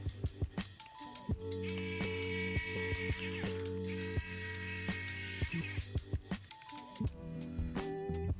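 Screws are driven into the metal mid plate of an iPod classic, a small motorised driver whirring in close bursts broken by sharp repeated ratchet-like clicks and taps, without any talking.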